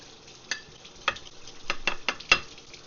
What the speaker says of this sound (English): Get all the scales off.